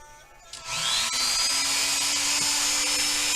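A high-pitched rotary tool with a sanding tip whines steadily after a quiet start, grinding Kydex continuously at close range with a sustained buzzing tone.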